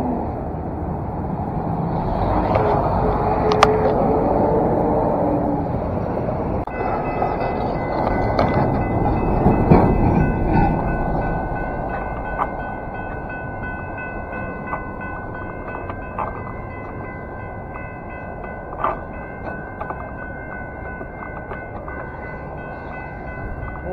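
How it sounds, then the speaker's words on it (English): An Amtrak passenger train rumbles steadily past nearby, a broad continuous roar with high metallic squealing tones running through it. "And that's the Amtrak."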